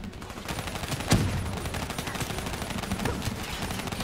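Dense automatic gunfire from a Call of Duty: Black Ops III campaign firefight, with overlapping bursts, a sharp loud blast just past one second, and a continuous rattle of shots throughout.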